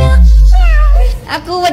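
A human voice mimics a cat's meow in a playful sung line, with a drawn-out mew over a low droning backing and then two quick, brighter mews near the end.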